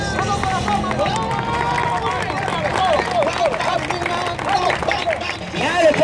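A street audience in Quito applauds and cheers for Venezuelan jugglers, dense clapping and crowd babble with shouting voices over it, loud and continuous.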